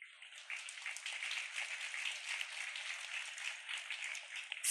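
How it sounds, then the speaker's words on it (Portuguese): Audience claps at the inauguration ceremony of a new president of Fiocruz, a thin but sustained patter of many hands heard from a distance, steady throughout without voices over it. "Aplausos."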